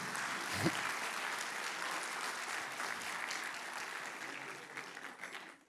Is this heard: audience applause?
yes